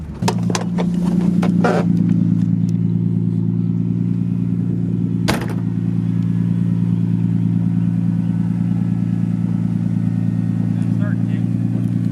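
Nissan Skyline R32 drift car idling with a loud exhaust, a deep steady rumble close by that runs throughout, with a few clatters and knocks near the start and people talking over it.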